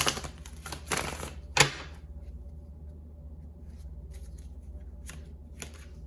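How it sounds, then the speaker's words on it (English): Tarot cards being shuffled up close: a few quick riffling bursts at the start, then quieter, scattered card taps and slides over a low, steady room hum. "one more shuffle here."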